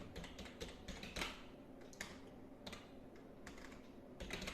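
A name typed on a computer keyboard in a quiet room, heard as soft, close, irregular key clicks in quick runs with a few louder taps, with no talk.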